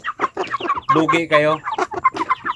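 Native chickens cluck in bursts close by on a farm, while someone talks over them.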